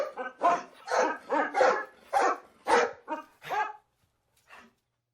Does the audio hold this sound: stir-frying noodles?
no